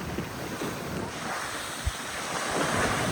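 Sea waves surging against the shore at Rameswaram under strong, gusting wind that buffets the microphone, a continuous loud roar with a sharp splash-like thump midway.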